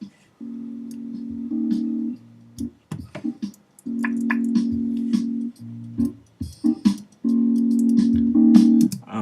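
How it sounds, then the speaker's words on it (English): A looping drum beat with ticking percussion plays alongside a sustained, strum-like keyboard loop in Ableton, repeating in bursts with short gaps, moderately loud and recorded through a poor microphone. "So I have this drum beat, drum loop, and I have this keyboard loop."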